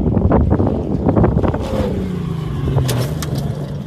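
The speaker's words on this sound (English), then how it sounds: "you guys just have to look at Marcel's truck in action" A Ford Ranger prerunner truck's engine revving hard, loud and close, with rapid throttle bursts at first, then a falling whine as it eases off, and a few sharp clanks near the end.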